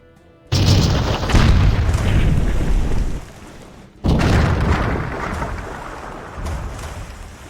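Enemy ship cannon fire in the naval trading game Patrician III, two loud booming blasts about three and a half seconds apart, each starting abruptly and rumbling off slowly with no one talking.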